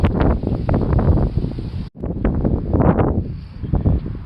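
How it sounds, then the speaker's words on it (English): Strong outdoor wind buffets the microphone in heavy, rumbling gusts, loud and close, with a brief sudden drop to near quiet partway through before the roaring resumes and gradually thins out. "it's so windy"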